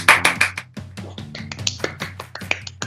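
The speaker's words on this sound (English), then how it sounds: "everyone give my magic hand a big round of applause" A small group gives sparse, irregular handclaps after a card trick. The close, dry claps are scattered over a soft tonal background.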